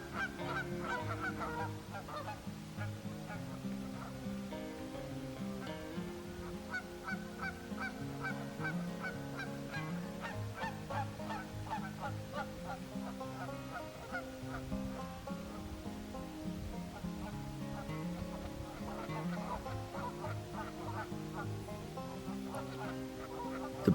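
Canada geese at a spring nesting site on Elk Island honk repeatedly, many overlapping calls forming a steady noisy chorus close by, with no voices.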